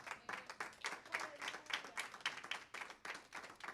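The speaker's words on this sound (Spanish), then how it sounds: "Démosle un aplauso al Cordero" A church congregation claps steadily for several seconds, a dense, even round of applause from many hands filling the room.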